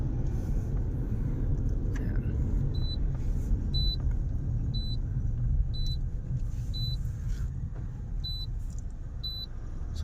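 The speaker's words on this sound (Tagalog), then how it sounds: "Pag nilalagay sa reverse drive, lakas ng kaldag." Car interior during a road test, with a low steady engine and road rumble and a faint repeating chime, while the transmission jolts hard when shifted into reverse and drive.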